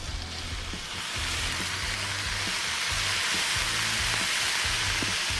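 Bacon strips laid on a Blackstone griddle crackle in a steady, loud sizzle, a dense frying hiss that swells after the first second and holds. No voices, only low background hum under the frying.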